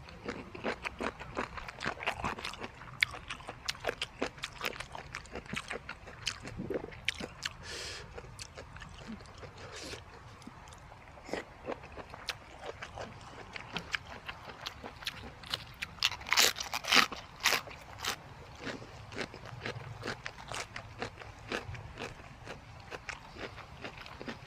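Crunchy chewing of Thai spicy pounded jellyfish salad with pickled fermented fish sauce, eaten with fresh vegetables, close up: continuous crisp bites and crackling crunches throughout, no talking.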